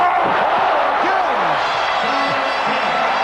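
Loud, dense crowd roar from a packed basketball arena at a FIBA World Championship game between the USA and Brazil, cheering steadily throughout with scattered shouts and whoops.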